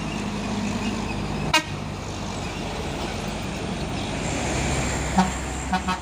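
A Hino trailer truck carrying a container passes on the road with a steady heavy rumble, and a short horn toot sounds near the middle, followed by a few fainter toots toward the end.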